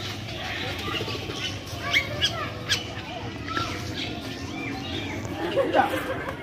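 Birds in an Indonesian bird park aviary give scattered chirps, squawks and coos, with several sharper calls standing out above a steady crowd murmur as people talk nearby.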